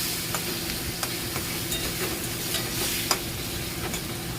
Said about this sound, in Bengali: এখন আমার তো পেঁয়াজ টমাটো ভাজা হয়ে গেছে এরপরে মশলাটা দিয়ে দিলাম